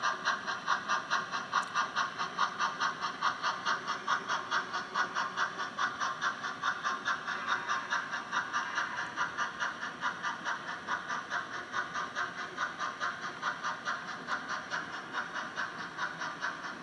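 A model train locomotive runs steadily along a small test track, giving a continuous, even mechanical whir with a fast rhythmic ticking pulse, moderately faint and close, with no talking.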